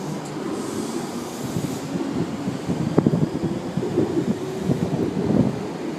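Sydney Waratah electric train pulling into Circular Quay station, a low rumbling roll with rail clatter and squealing tones building over several seconds, with wind buffeting the microphone.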